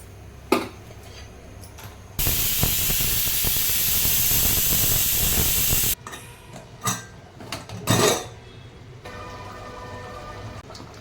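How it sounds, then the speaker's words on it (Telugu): A pressure cooker cooking mutton lets out a loud continuous rush of steam lasting several seconds, framed by quieter kitchen clatter and short bursts of hiss. "కుక్కర్ 4 సీటీలు వచ్చిన తర్వాత బంద్ చేయండి."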